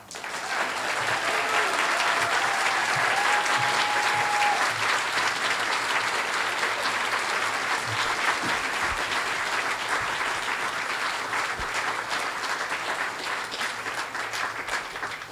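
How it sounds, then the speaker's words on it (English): Sustained applause from a sizable audience at a storytelling event, steady and enthusiastic, filling the room for about fifteen seconds without letting up. "one more big round of applause for these amazing storytellers"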